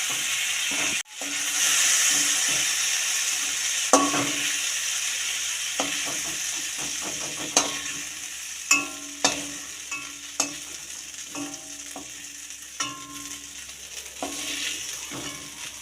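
Prawns frying in a pan give a steady close sizzle throughout, broken by scattered sharp clinks and scrapes of a utensil stirring against the pan.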